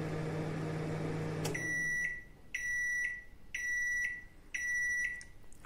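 A Samsung MG23K3515CK microwave oven hums steadily while running, then stops and gives four evenly spaced electronic beeps, clear and close.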